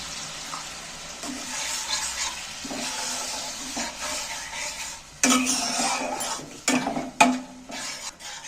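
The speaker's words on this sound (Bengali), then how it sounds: "আবারও আমি একটু জল দিচ্ছি।" Water goes into a pan of cooked spice paste, the sizzle bursting and hissing in sharp surges with utensil clinks near the end, close and fairly loud with no talking.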